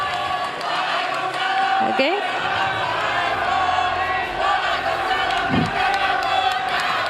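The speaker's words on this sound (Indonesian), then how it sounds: "silakan beri tepuk tangan yang meriah dulu untuk sesi tanya jawab 3 calon presiden ini" A crowd at a presidential debate cheers and claps in a sustained, loud roar, with shouts and whoops rising over the noise and a brief spoken word partway through.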